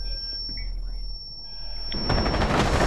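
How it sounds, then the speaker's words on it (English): A grenade blast in Rainbow Six Siege lands suddenly midway as a loud, broad burst of noise that rumbles on to the end, following a quieter stretch of game sounds. "Grenade out."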